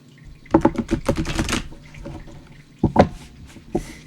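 A deck of sticky playing cards being handled, with a quick burst of riffling flutters followed by a few separate snaps and flicks, close and fairly loud with no talk.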